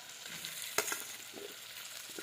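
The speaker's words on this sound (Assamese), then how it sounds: "এয়া এতিয়া মাংসখিনি অলপ ভাজি ল'লোঁ। তাৰপিছত এতিয়া মই তাতে দি দিম আলু।" Chicken pieces seasoned with chili powder, with potatoes about to go in, sizzle steadily in a hot pan, punctuated by a few sharp stirring scrapes and clinks, close and without talk.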